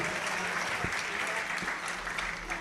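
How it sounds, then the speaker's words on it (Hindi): An audience at a religious discourse gathering breaks into sustained applause, a dense, even patter of many hands clapping with a few sharper knocks, continuing steadily throughout. "तालियां सभी लोग बजा दें।"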